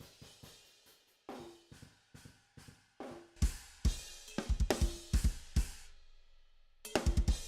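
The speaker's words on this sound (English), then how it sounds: "This is the sound of the drums from like 20 feet away" Drums recorded from about 20 feet away, heavily compressed: kick, snare and cymbal hits in a loose groove, with the pumping room sound swelling between beats.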